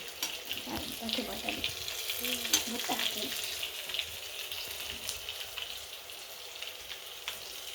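Potatoes frying in a pan for aloo paratha, a soft continuous sizzle with occasional stirring clinks and scrapes, fairly quiet and close, with faint voices in the background.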